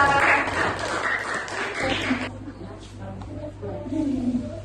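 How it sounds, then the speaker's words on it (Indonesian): A classroom group of students gets brief applause that fades after about two seconds, leaving quieter room noise and a low steady hum, with a few voices murmuring. "Kasih tepuk tangan untuk kelompok 2."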